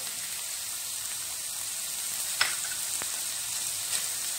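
Peppers, garlic and spices frying in a pan, a steady close crackling sizzle throughout with a couple of small clicks, no talk.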